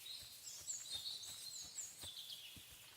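Birds sing steadily in the peaceful outdoor world of Kingdom Come: Deliverance 2, with high, overlapping chirps and trills drifting at a gentle distance, heard on their own.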